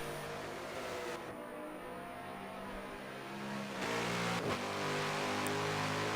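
GTE race cars, Porsche and Chevrolet, race at Monza in a sim race, with a steady droning engine roar that shifts pitch as the cars accelerate and change gear, heard at moderate distance and quite faint.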